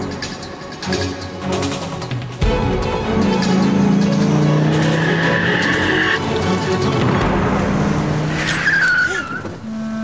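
Car chase in a Persian TV drama scene, with engines roaring, repeated tire skids and a rising squeal near the end; loud and close, with brief voices under the action.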